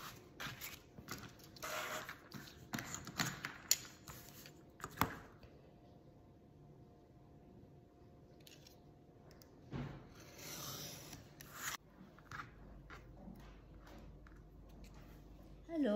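Scissors cut paper for a handmade azulejo-style craft album in a quiet room, with bursts of close snipping and rustling paper, pauses between cuts and faint low room noise.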